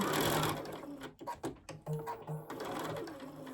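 A sewing machine stitches around a felt penguin gift card holder with black top thread, close and steady whirring in short runs broken by brief pauses, alone without talk.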